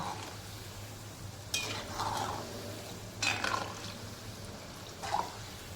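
Shankarpali sweets fry quietly in hot oil in a cast-iron kadai while a spoon stirs them from bottom to top in three distinct scraping, sloshing bursts over a soft sizzle.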